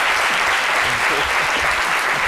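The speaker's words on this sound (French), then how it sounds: "Je vous demande de l'applaudir très, très fort." Dense, loud applause from a television studio audience, continuous and even throughout with no pauses.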